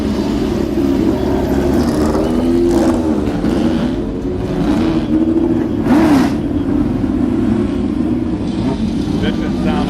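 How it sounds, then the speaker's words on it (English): A historic Lola race car engine roars and revs continuously at close range, its pitch rising and falling in a harsh, throaty drone. "Vicious sound of Lola"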